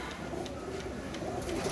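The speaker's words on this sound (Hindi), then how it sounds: "ये वाला कबूतर है मेरा बड़ा" Pigeons cooing softly in a home loft after rain, low steady burbling calls running continuously at moderate distance with no talk.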